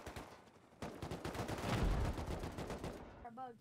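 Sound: gunfire in the video game Rust

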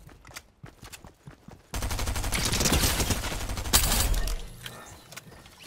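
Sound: gunfire in a video game

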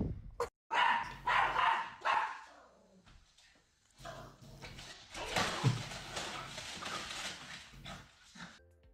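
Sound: dog barking excitedly

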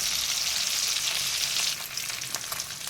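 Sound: fish frying in oil

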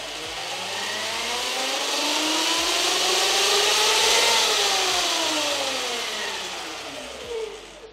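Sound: Electric Motion Escape electric bike motor revving, rear wheel spinning

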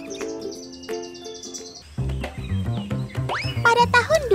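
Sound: song of a mimicking songbird (kelede)

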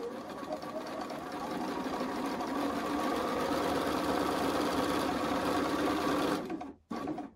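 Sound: sewing machine stitching quilt fabric

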